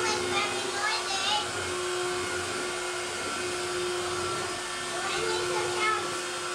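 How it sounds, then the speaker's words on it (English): A household vacuum cleaner runs steadily throughout with a constant motor whine, while a child and an adult talk over the noise. "I'm doing vacuum, but it's very noisy."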